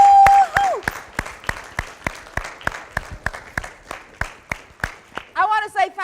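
Conference audience at a McGraw Hill ALEKS math event claps in a steady, evenly spaced rhythm of sharp hand claps, loud and near, with a voice calling out at the start and a whoop near the end.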